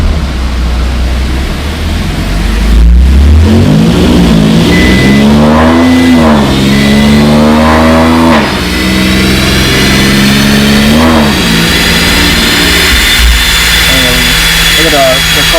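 An Infiniti Q50 with a boosted engine and aftermarket intake pulls away and accelerates, a loud, rising engine note climbing through several revs and gear changes, with a voice heard speaking over it.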